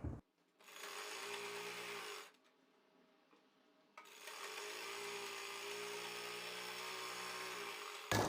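Sewing machine stitching kurti fabric, two steady whirring runs of fast needle strokes split by a short quiet pause, close and alone.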